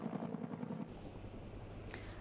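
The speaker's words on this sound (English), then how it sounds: "Waterbombing helicopters continuing late into the night" Waterbombing helicopters working late at night over a town ringed by bushfire flames give a faint, distant, steady rotor hum, pulsing briefly at the start and then settling into a low drone.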